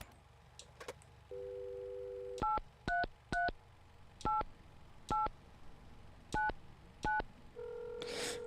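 A phone keypad in the video game Mon Bazou beeps through a dialed number, a steady tone followed by eight crisp, evenly spaced key tones, ending in a new tone with a brief noisy burst.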